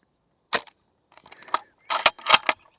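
Shots from a G&G No.4 Lee Enfield airsoft rifle outdoors: one sharp snap, then quieter bolt clicks and handling noise, followed by two more sharp pops close together.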